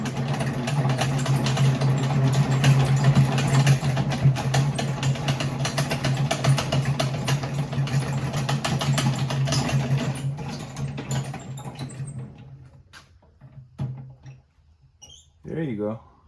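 A honey extractor spins frames during a first honey harvest, giving a steady, loud mechanical drone with a low hum that runs for about twelve seconds, then cuts out, leaving a few scattered knocks and a short final burst.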